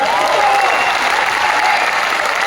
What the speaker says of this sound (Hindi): एक बार जोरदार ताली से स्वागत कीजिए